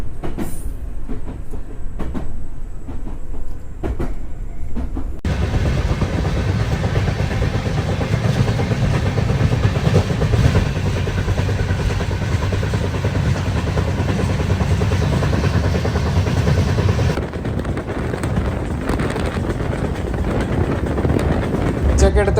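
A long-distance passenger train on the Bengaluru–Delhi route rolls steadily through Karnataka, its loud, continuous rumble and wheel noise filling the whole stretch, with a shift in tone partway through as the surroundings change.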